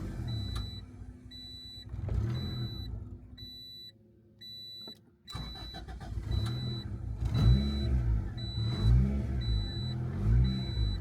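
A turbocharged Honda Integra engine revs in surges, rising and falling in pitch, with a steady electronic beeping chime repeating over it and a brief drop to near silence midway.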